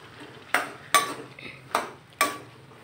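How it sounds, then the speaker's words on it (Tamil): Spoon scraping and clanking against a pan while cowpea sundal is mixed with salt and turmeric over a low flame, four sharp metallic strikes spaced unevenly over a soft background. "அதை போட்டு நல்லா மிக்ஸ் பண்ணிக்கலாம்."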